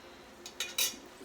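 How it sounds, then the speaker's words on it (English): Spoon scraping and clinking against a pan while stirring a large chopped onion, a few short separate scrapes with quiet pauses between, fairly faint and close. "I'm going to just kind of stir this a little"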